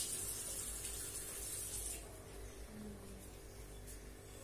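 A tap runs in a steady rushing stream while a face is washed at a sink, the flow softening partway through with faint splashing.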